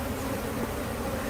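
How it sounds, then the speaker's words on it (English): A dense, steady buzz of many agitated honey bees swarms close around an opened hive during varroa mite treatment, constant and intense without any voices. "The bees are going nuts."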